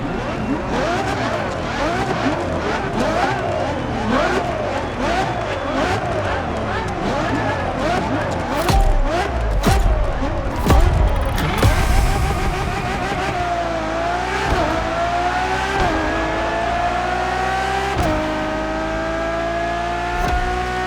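Ferrari Enzo supercar in The Crew Motorfest, its engine revving through rising and falling gear shifts with tire squeal, loud and continuous, then climbing in long pitch sweeps as it accelerates; music or effects may sit underneath.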